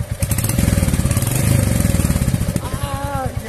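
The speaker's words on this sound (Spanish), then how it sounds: "escuchar cómo suena el monocilíndrico" A 2023 Royal Enfield HNTR 350 single-cylinder motorcycle engine runs close by with a fast, even thumping pulse, loud and steady, as a voice speaks briefly near the end.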